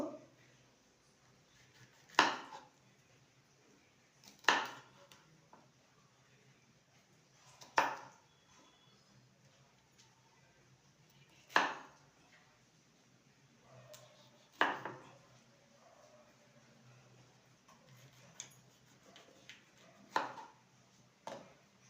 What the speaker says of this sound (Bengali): এবার ক্যাপসিকামকে কিউব করে কেটে নেব